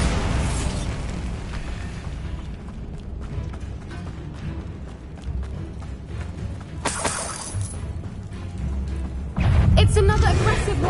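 A Bombarda spell blast in the Hogwarts Legacy video game, a loud burst and rumbling boom near the end after steady game noise, with a voice talking through it.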